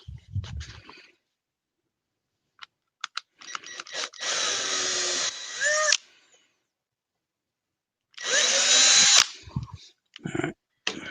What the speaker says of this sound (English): I usually keep a drill handy because I usually forget to drill a hole or two